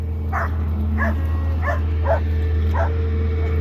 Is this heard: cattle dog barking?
yes